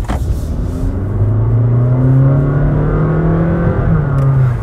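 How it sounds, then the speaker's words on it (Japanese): A Honda Vezel e:HEV hybrid's engine revs up under hard acceleration from inside the cabin, its pitch climbing in distinct steps like a stepped automatic's gear shifts, loud and continuous. "まるでステップ AT のようなエンジン音の変わり方がします"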